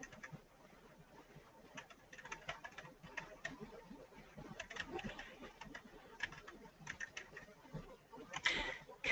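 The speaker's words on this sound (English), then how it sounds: "You can hear me typing." Faint typing on a computer keyboard, with scattered irregular clicks and taps over a quiet, slightly noisy room during an online group session.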